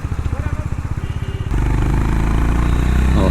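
A Honda H'ness 350 motorcycle's single-cylinder engine idles with a steady, throbbing putter, then shifts into a denser, louder rumble as it revs. The engine is close and loud, with no talk over it.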